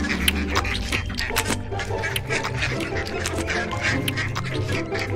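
Cartoon ducks quack in a busy, dense jumble of calls, with voices and music mixed in throughout at steady loudness.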